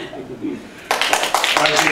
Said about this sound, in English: if we can hold our applause until the end